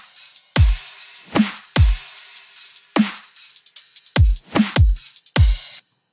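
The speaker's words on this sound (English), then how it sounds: "it's just a normal sort of generic dubstep groove that's a little different than just a normal kick, snare, kick, snare" Punchy dubstep drum groove built from Ghosthack kick and snare samples, with deep booming kicks and sharp snares in a half-time, syncopated pattern, loud and alone with no talk.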